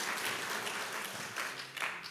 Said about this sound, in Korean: 박수 한번 이렇게 쳤으면 좋겠습니다